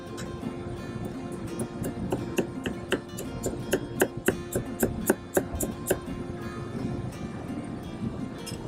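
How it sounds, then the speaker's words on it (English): Knife slicing through a red onion on a board for a homemade tuna pizza, a series of crisp, evenly spaced cutting taps that grow more regular, then fade into quiet background. "slice the red onion"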